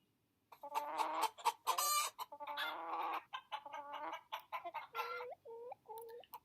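A farm hen clucks and squawks in a steady run of short, busy calls, close and fairly clear, with a few rising cackles toward the end.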